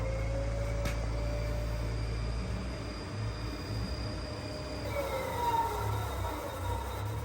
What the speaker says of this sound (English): We're gonna drop the hood. It's gonna start measuring out the wheel and tire imbalance